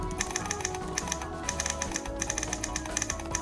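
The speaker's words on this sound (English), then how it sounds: "it makes typewriter sounds, which is awesome." Simulated typewriter key clacks from word processor software, a quick steady run of sharp taps played alone with no talk over them.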